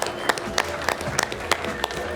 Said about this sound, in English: Round of applause for the judges,